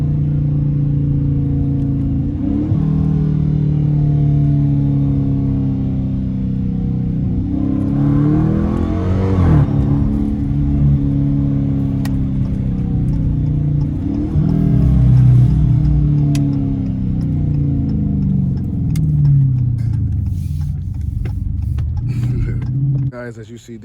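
A straight-piped Dodge Challenger R/T accelerating in traffic makes a loud, continuous engine roar, with revs rising and falling through several pulls.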